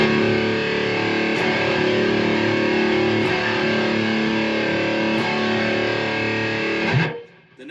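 One sustained, heavily distorted electric guitar chord in drop D tuning rings loud and full for about seven seconds before being abruptly cut off.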